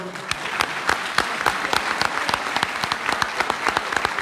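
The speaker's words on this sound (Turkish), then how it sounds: "Bu güçlü kadroya sizlerden de güçlü bir alkış istiyorum." A crowd at a political party event claps steadily, with loud individual claps standing out in an uneven rhythm, close and lively.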